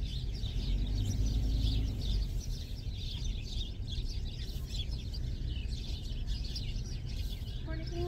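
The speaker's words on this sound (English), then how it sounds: "Oh, there's the birds. I love to hear that." Birds chirp and tweet in repeated bursts outdoors, heard over a steady low rumble, with a brief higher call near the end.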